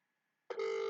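A telephone call on speakerphone starts after a brief faint hum with a sudden loud, steady ringing or dial tone that holds to the end.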